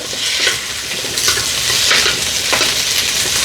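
Loud, close sizzle of vegetables sautéing in a frying pan, with a continuous frying hiss and repeated stirring scrapes rising every half second or so.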